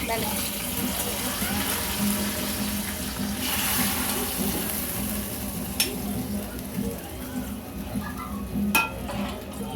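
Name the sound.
tempering sizzling in hot oil for ladies finger pulusu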